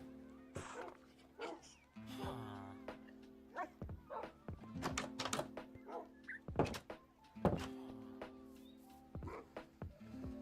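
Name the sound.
dogs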